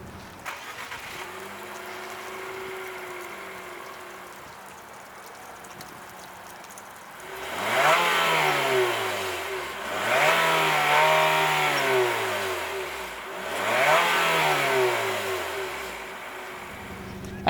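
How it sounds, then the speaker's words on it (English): A 2019 Infiniti QX50's turbocharged four-cylinder engine idles steadily, then revs hard three times, each surge rising and falling back, loud and close. "the engine makes typical 4-cylinder noises"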